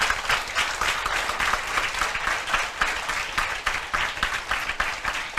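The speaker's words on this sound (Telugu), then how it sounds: "అందరూ గట్టిగా చప్పట్లు కొట్టండి" Loud, sustained applause from a room full of students in a classroom, dense steady clapping lasting several seconds with no pauses.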